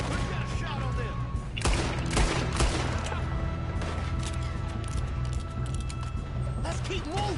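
Dense gunfire in the video game Red Dead Redemption 2 crackles in a chaotic volley alongside a moving train, layered over a steady rumble with voices talking throughout.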